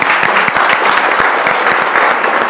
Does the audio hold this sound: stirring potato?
no